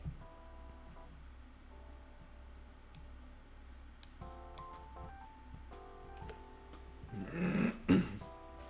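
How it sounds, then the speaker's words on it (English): A couple of close, abrupt coughs burst out near the end, after a quiet stretch with faint ticking and background tones. "I keep coughing and sneezing into the microphone"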